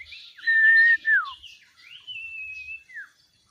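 A wild owl (burung sirtu) calls outdoors with clear, close whistled notes: a long steady whistle, a falling slur, then a second long drawn tone ending in a brief downward note, with no talk over it.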